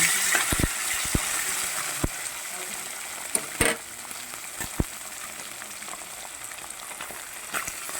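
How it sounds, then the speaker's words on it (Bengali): Small river chela fish fry in hot oil with a steady broadband sizzle, punctuated by sharp clicks and scrapes of a spatula turning them in the pan; no talking. "এবারে দেখো মাছগুলো আমি ভেজে নেবো একটু ওপিট করে মাছগুলো ভেজে নেব"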